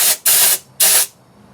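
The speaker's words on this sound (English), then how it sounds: "I'll pull it out and you can see it spraying" Woolwax undercoating sprayed from a spray gun in two sharp hissing bursts, loud and close, each cut off abruptly with quiet between them.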